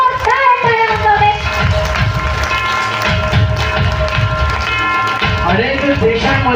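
A concert audience applauds to welcome a singer onstage at a tribute event in Kolhapur, a dense, sustained clapping wash with tonal music or voices threaded through it.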